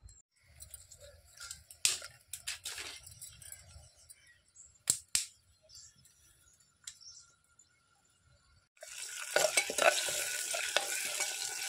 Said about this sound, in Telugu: ఆయిల్ వేడయ్యాక పోపు గింజలు వేసుకోవాలి.